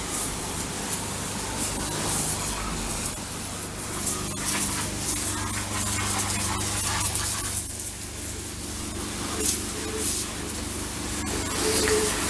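A power washer sprays a degreased Yamaha Thunderace engine in a continuous, close, loud hiss of water jet. The spray varies slightly as it is moved over the engine for several seconds, with no speech.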